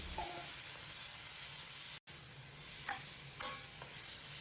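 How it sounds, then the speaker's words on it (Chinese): Diced tomato and potato cubes stir-fried in a hot wok with oil and chopped scallion, a steady sizzle with brief scraping stirs, fairly quiet, cut by a short dropout. "在锅中煸炒1分钟左右。"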